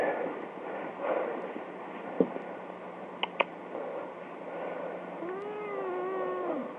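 A cat that has just been woken up lets out a drawn, wavering meow near the end, after a few soft rustles and clicks in a quiet indoor room.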